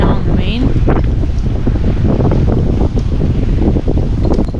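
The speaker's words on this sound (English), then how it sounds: "Some wind came out of nowhere, so Jay's putting in a reef right now on the" Strong wind roars steadily across the microphone aboard a sailboat offshore before dawn, with water rushing and slapping against the hull and faint voices now and then under the gusts.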